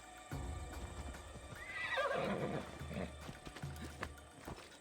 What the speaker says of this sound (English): I literally brought you a horse.